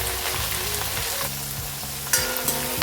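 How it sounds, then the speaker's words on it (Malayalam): Chopped onions sauté in a hot pan with a steady sizzle and crackle, while spoon scrapes and stirring clinks come through close by. "എന്നിട്ട് ഒന്ന് വഴറ്റിയെടുക്കാം"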